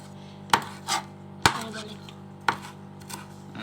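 Coriander leaves chopped with a knife on a board for an egg fry, three sharp, separate knife strikes, close and unhurried, over a quiet steady background hum.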